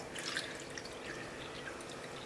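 A thin stream of water pours steadily into a wok, a continuous splashing trickle, close and quiet with no talking.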